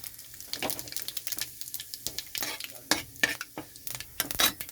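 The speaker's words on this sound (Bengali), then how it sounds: "কড়াইতে সর্ষের তেল দিয়েছি, তেলটা গরম হয়ে গেছে। তো এখানে আমি দিয়ে দিচ্ছি গোটা জিরে" Whole cumin and bay leaf hit hot mustard oil in a pan, giving a sizzle broken by rapid, irregular stirring clatters from a utensil.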